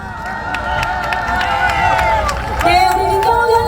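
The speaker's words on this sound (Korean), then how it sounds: "우리 민경호 의원님께 다시 한번 큰 격려의 박수 부탁드리겠습니다" A rally crowd applauds a speaker with loose claps and cheering noise that carries on under a talking voice amplified over the gathering.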